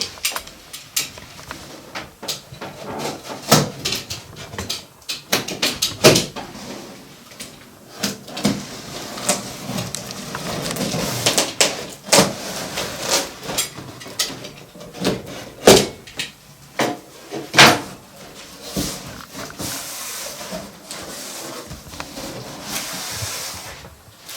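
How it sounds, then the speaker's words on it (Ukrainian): Gasoline generator rated 2000 W running and 2200 W peak being unpacked, with irregular cardboard and plastic rustles, scrapes and thumps of handling, close and moderately loud, no talk. "Зараз буду відкривати генератора, розпаковувати"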